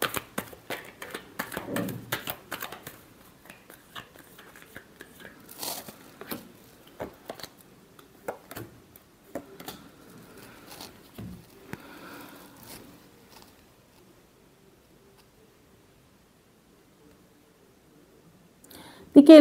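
A deck of tarot cards is shuffled by hand during a reading. Crisp, close flicking and slapping comes in irregular bursts, goes quiet, and ends with a sudden thump.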